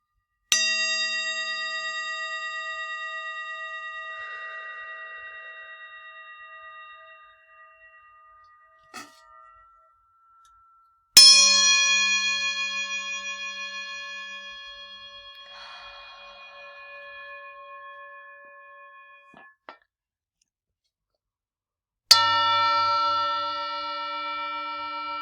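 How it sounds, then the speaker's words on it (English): Three handbells are struck one at a time, each a clear ringing strike that decays slowly over several seconds, with soft clanks between them and no talking. "today we're going to ring our bells"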